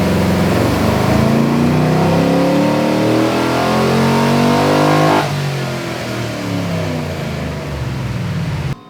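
A Chevrolet Silverado truck engine revs hard on a dyno during tuning, a loud sustained climb in pitch for about five seconds before dropping back to a steady, lower roar that carries on until it cuts off.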